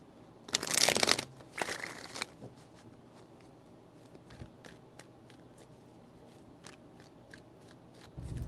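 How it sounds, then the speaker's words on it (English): Tarot cards shuffled close to the mic in two quick, crisp bursts of riffling, followed by quieter ticks and soft handling sounds as the deck settles. "3 shuffles."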